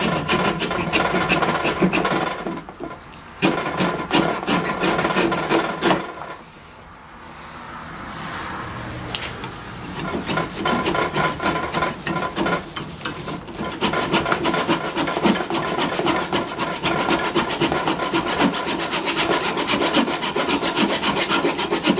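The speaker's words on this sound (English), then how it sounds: "take my little gent saw, trim it down a little bit" A small gent saw and a rasp work on wood during a table restoration, giving repeated rhythmic rubbing and rasping strokes close by. The strokes pause briefly twice, then resume in steady back-and-forth cuts.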